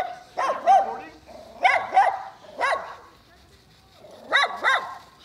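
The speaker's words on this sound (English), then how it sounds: "every dog in the neighborhood has elected to" Several neighborhood dogs bark in repeated bursts of two or three sharp barks with pauses between, fairly close and loud, outdoors near a Starlink launch viewing spot.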